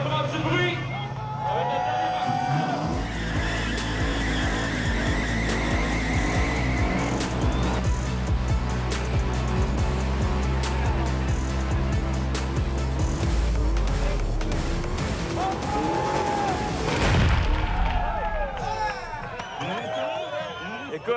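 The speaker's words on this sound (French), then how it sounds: "quel passionné de char qui a jamais fait un smoke show?" A car doing a burnout smoke show at an old and new school car barbecue with lowriders, its engine roaring loud and continuous with tire squeal, rising and falling before cutting out, while people talk and shout nearby.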